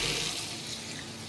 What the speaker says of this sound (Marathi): आता त्याच्यात आपण पाणी टाकून घेऊ।